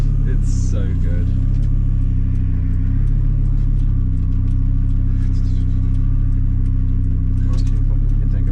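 Audi B5 S4 race car fitted with a swapped AAN five-cylinder turbo engine, a steady loud cabin drone and rumble throughout, with faint turbo wastegate chatter and people talking over it.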